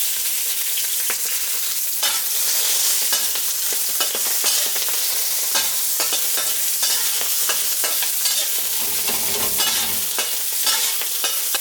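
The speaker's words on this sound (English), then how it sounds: "Get this oil nice and hot. The first thing I'm gonna throw in is gonna be my green onion, but the white part." White parts of green onion frying in hot oil, a loud, dense, continuous sizzle with constant crackling pops throughout, close up and alone without talk.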